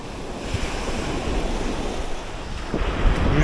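Steady roar of strong wind buffeting the microphone over crashing waves at sea off Arsuz, Turkey, during a storm, continuous and loud throughout.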